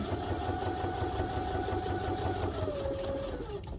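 A sewing machine runs steadily and close, stitching pocket lines on a fabric pouch from bottom to top in one continuous whirring run that eases slightly at the end.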